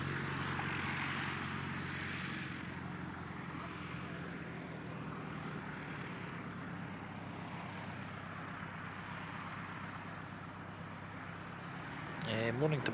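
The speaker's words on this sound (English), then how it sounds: "There is an ATR heading out off up to Wellington, NZ" An ATR turboprop airliner departing Christchurch Airport for Wellington, New Zealand, heard from a distance as a steady, broad engine and propeller roar that holds at a moderate level throughout, with a brief louder clatter near the end.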